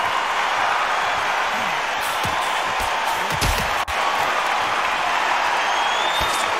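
An arena crowd cheering and chanting in the Undisputed boxing video game during a Tyson Fury vs Deontay Wilder bout, a dense, constant roar of crowd noise with a few sharp knocks poking through.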